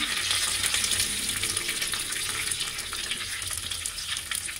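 Cumin seeds fry in hot coconut oil, giving a steady, bright sizzle and crackle that stays loud and close throughout, with no talking.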